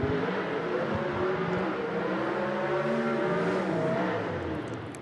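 A B-Gas class gasser drag car idles and revs at Shadyside Dragway, a loud, sustained rumbling engine note with wavering pitch that holds for five seconds before easing off slightly.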